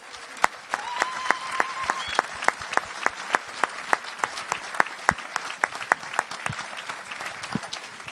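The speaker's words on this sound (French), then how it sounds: "on devrait applaudir le Seigneur pour justement la réforme de l'Écriture" Church congregation applauding, a dense crowd of steady rhythmic clapping that holds loud and even throughout, with a faint voice briefly audible beneath.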